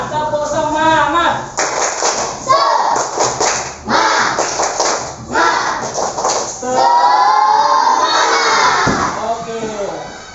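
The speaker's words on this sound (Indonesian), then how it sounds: "Kita ulang yang lebih semangat. Tepuk semangat." Schoolchildren in a classroom repeat a rhythmic clap-and-shout cheer more energetically, loud group voices and sharp clap bursts in alternating patterns, with a teacher's voice leading in.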